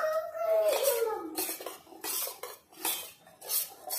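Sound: stirring ragi porridge in a pot

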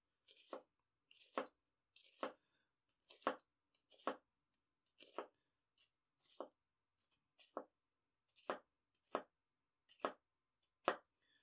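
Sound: Tokushu SLD gyuto knife cutting food

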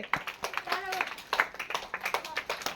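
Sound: audience clapping

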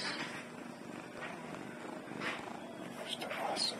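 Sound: cat purring

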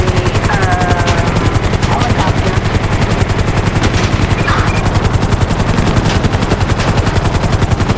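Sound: helicopter and gunfire in the video game GTA 5

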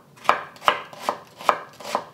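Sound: knife slicing half an onion from top to bottom

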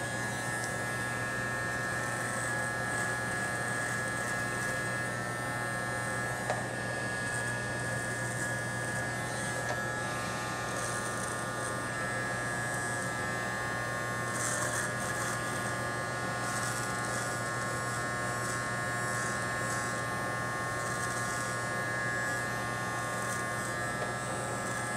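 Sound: electric clippers shaving a mustache

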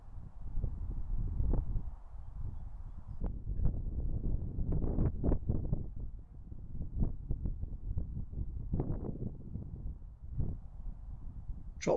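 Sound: wind blowing at outdoor fishing lake

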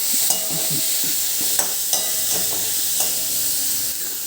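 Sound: stirring chopped tomato into sautéed onions in a pan

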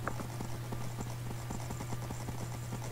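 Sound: horse hooves clip-clopping in a Minecraft horse race minigame

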